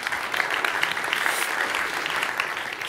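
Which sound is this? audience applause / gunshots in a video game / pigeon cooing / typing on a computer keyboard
audience applause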